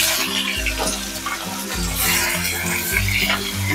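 Garlic and chili paste sizzles and fries in a pan with cumin while being stirred, giving a steady crackling hiss with repeated low scraping strokes of a spoon against the pan.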